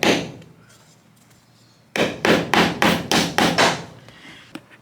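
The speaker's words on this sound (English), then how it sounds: "we're just going to bang that pop rivet in." A pop rivet is driven in with a hammer while making twisted wire, heard as a run of about seven sharp, close metallic strikes at a steady rhythm after a quieter stretch.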